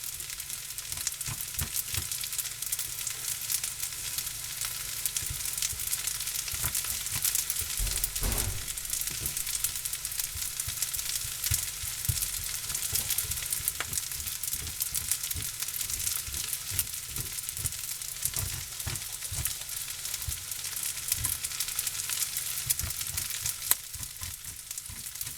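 Pork fried rice frying in oil in a pan, a continuous close crackling sizzle with small pops scattered throughout, steady and without talk.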